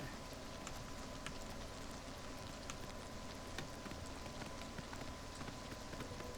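Steady rain in the video game Oblivion Remastered hisses and patters on a surface without a break, with scattered droplet ticks over the constant wash of noise.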